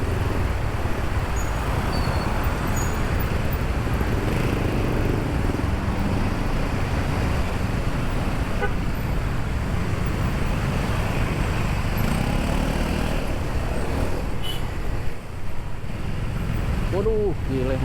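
Congested road traffic heard from a scooter or motorbike on a morning commute, with a steady broadband rumble of engines and road noise throughout, loud and continuous, and voices talking in the background.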